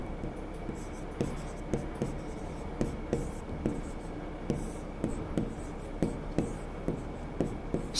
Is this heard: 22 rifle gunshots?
no